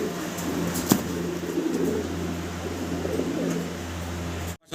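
Racing pigeons coo in low, rolling, repeated calls that overlap and continue close by over a steady low hum, with a sharp click near the start and a sudden cut near the end.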